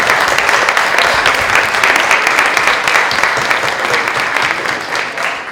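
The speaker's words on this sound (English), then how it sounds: "give Natasha another round of applause" Loud, sustained applause from a conference audience fills the whole stretch, dense clapping that slowly tapers toward the end with no voices over it.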